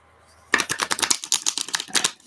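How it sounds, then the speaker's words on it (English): A hefty deck of tarot cards being shuffled: a quick run of crisp, dense riffling flutters and soft slaps, close and fairly loud, after a brief quiet start. "These ones are shuffling really good"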